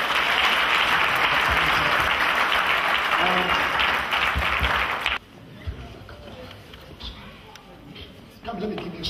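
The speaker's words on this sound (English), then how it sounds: "Give the Lord a clap of praise." A church congregation claps in praise for about five seconds, loud and steady, then it cuts to quieter room sound with a voice speaking.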